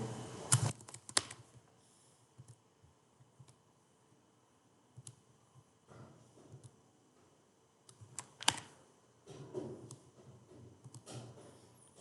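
Typing on a computer keyboard produces sparse clusters of light key clicks with quiet gaps between them, close up but faint, and no one speaks.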